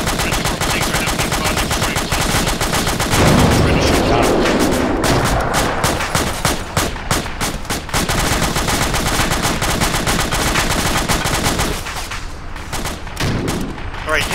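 Airsoft guns fire in a skirmish game along a creek bed, with loud, dense bursts of rapid shots continuing almost without a break while people shout and talk over them.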